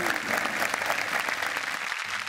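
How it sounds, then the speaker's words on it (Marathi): A theatre audience claps warmly for an actress as she is welcomed on stage at a Marathi comedy event, a dense, steady burst of applause throughout. "जोरदार टाळ्या तिच्यासाठी"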